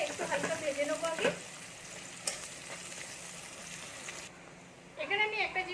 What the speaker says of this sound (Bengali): পেঁয়াজ আর কাঁচা লঙ্কাটা একটুখানি হালকা আমি লাল করব, খুব লাল করবো না, একটু হালকা ভেজে নেবো আগে